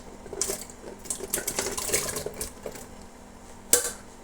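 Water is poured into a pot of sambar with drumstick, carrot and other vegetables, giving intermittent splashing and gurgling bursts, close by, with a sharp clink of metal near the end.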